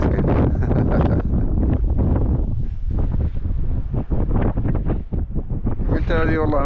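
Wind buffets the microphone while cycling across the Great Eastern Erg desert in Algeria, a loud, continuous gusty roar with uneven surges that fills the whole stretch.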